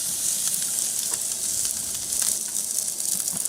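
Steak searing on a Big Green Egg grill gives a constant, close, bright sizzle that holds evenly throughout, flecked with small pops and crackles.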